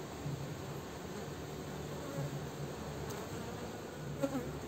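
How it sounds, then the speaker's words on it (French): Dense, steady buzzing of many honeybees around a hive frame close by, a continuous droning hum with a few brief louder passes near the end. "Alors les abeilles passent dessous."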